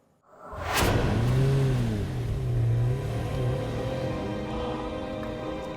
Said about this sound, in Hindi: गाड़ी मत रोको, चलाते रहो, चलो।